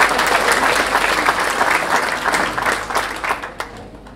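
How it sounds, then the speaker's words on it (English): Audience applause at a youth academy award show, a dense wash of clapping that stays steady and fairly loud before thinning slightly toward the end, with a few sharper individual claps standing out. "A big round of applause."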